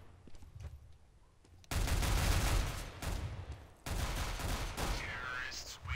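Gunfire in Counter-Strike: Global Offensive, where a player downs an opponent with a pistol. Two loud bursts of sharp shots and echoing impacts cut in over a quieter game background, each lasting a couple of seconds.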